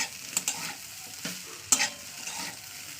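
Soaked flattened rice (chira) stir-fried in a pan for chira pulao, with several sharp spatula scrapes and clicks over a soft, quiet sizzle; no talking.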